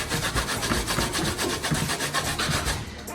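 Cassava is rubbed back and forth over a grater for Jamaican bammy, a steady rhythmic rasping scrape repeated several times a second, close and moderately quiet, with no talking.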